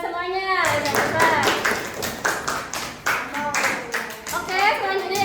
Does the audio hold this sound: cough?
no